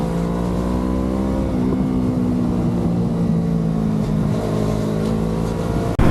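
A motorcycle cruising along a road, its engine giving a loud, steady, close-up drone with a constant pitch and a brief dip near the end. No one speaks.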